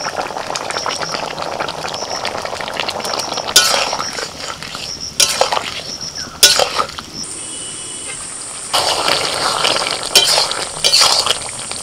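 Okra and potatoes cooking in a pan, with bubbling and frying sizzle interrupted by several loud bursts of stirring and clinking of a utensil against the pan, close up; faint voices occasionally underneath.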